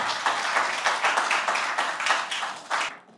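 Sustained audience applause at a book presentation and signing ceremony, dense and steady clapping from a seated crowd for about three seconds before it cuts off abruptly.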